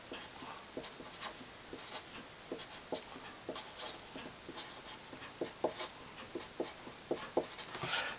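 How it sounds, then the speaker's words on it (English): Pen scratching on paper as lines are drawn through the centre of a hand-made astrology chart: a quiet, close series of short, irregular strokes with no talking. "Just write these in for the sake of clarity."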